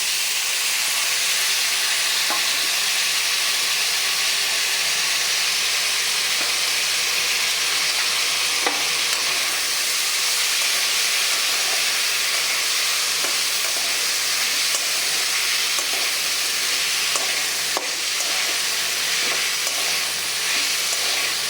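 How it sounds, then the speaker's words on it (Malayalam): Boiled jackfruit seeds fry in a pan with a steady loud sizzle and hiss, while a spoon stirs them with occasional soft scrapes and taps throughout. "നന്നായി ഇളക്കി യോജിപ്പിച്ച് ചെറുതായിട്ടൊന്ന് മൂത്ത് വരണം."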